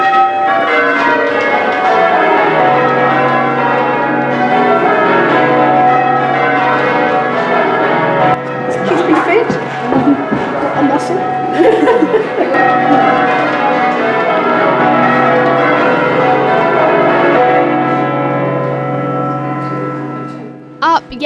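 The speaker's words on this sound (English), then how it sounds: "I wanted to see how the real bells were rung" Church bells from 1775 rung by a team of bell ringers on a Sunday morning, a dense, continuous sustained peal of overlapping tones filling the whole stretch, loud and close.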